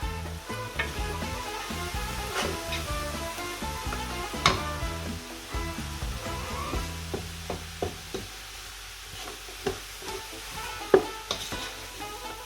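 Food sautéing in a hot pan for a home-cooked Ramadan recipe, a constant close sizzle and crackle broken by frequent utensil knocks and scrapes as it is stirred, with no voices.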